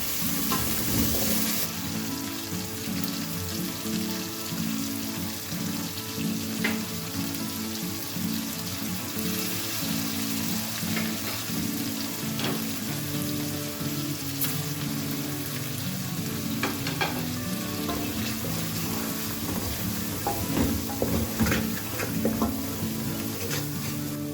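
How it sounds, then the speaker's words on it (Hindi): Cubes of frozen tomato puree sizzle and fry steadily in a pan over low to medium flame while making pulao, with a continuous close crackle and occasional stirring clicks throughout, no talking. "टमाटो प्यूरी डालने के बाद जब ये मेल्ट हो जाएंगी क्यूब तो मैं इसमें बाकी मसाले ऐड करूँगी।"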